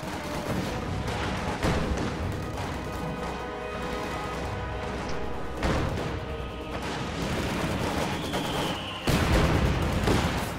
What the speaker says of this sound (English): Sniper just picking away at the various team weapons.